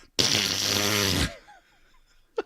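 A long, loud, buzzing fart noise, a mouth-made raspberry imitating flatulence, blares for about a second, then trails off with a few faint squeaks and a short final puff.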